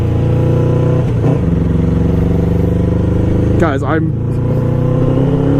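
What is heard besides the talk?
motorcycle engine revving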